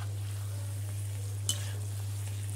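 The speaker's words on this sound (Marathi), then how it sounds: "इथं तळणं चालू आहे" Taro leaf fritters (alu vadi) spread with a ground paste of chili, garlic, ajwain and cumin sizzle faintly in hot oil, with a low steady hum beneath and one brief bright crackle.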